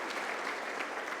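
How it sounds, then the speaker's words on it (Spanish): A church congregation claps together in steady, dense applause, a brief continuous burst heard at moderate distance. "Dale un aplauso a Dios."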